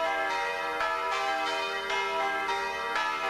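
Church bells ringing in a belfry, struck in a steady rhythm of rich, resonant tones roughly every half second, sustained and clear without any talking.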